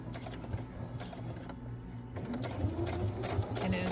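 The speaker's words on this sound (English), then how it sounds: "I'm just going to sew around." A sewing machine runs in quick rhythmic bursts of needle clatter, stitching a small sleeve into a dress armhole, close and continuous with slight pauses in speed.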